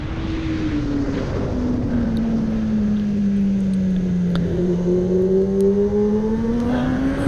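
A 600 cc motorcycle engine drones steadily while riding, its pitch sliding down and back up as the bike slows and speeds, with wind noise throughout.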